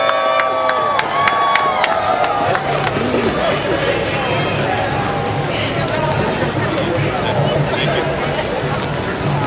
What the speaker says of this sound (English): Let's give Justin a big round of applause